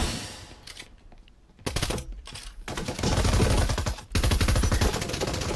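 Rapid bursts of rifle and SMG fire crackle in a Breachers VR league match, with sharp automatic volleys starting and stopping in quick succession, loud and close.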